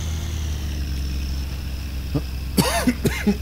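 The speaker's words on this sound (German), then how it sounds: "Muss doch gleich mal husten." A man coughs a few times in quick rough bursts, close and fairly loud, over a steady low engine drone of a truck in the game My Summer Car.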